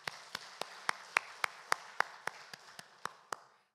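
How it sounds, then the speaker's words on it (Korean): About a dozen sharp, evenly spaced claps ring out one at a time in a roomy church, a slow rhythmic clapping rather than full applause, during a Sunday service. "우리 박수로 축하합시다"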